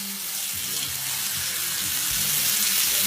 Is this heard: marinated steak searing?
yes